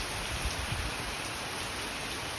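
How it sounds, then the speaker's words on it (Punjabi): Heavy rain pours steadily outdoors as a dense, loud, even hiss of drops hitting surfaces, with no voices over it. "ਜ਼ੋਰ ਬਾਰਿਸ਼ ਆ ਰਹੀ ਹੈ"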